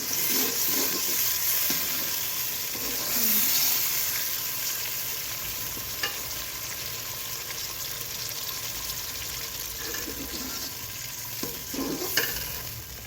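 Onions frying in a pan for chicken kofta gravy, a steady broad sizzle with faint stirring scrapes and occasional soft clinks, moderately loud and unbroken, with no voices.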